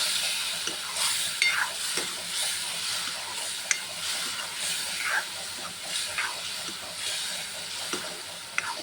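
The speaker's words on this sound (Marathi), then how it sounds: "आता याच्यामध्ये जे टोमॅटोची ग्रेव्ही केली ते टाकणार आहे. हे पण एकजीव करून घ्यायचं." Tomato gravy is stirred into masala frying in a pan for a milk-sev curry. A steady, close sizzle and hiss runs throughout, with repeated scraping stirs and no talking.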